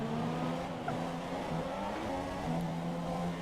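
F1 2017 race car engine droning steadily with layered tonal whine, continuous and fairly loud throughout the short stretch, with a slight pitch shift near the end as another car closes in.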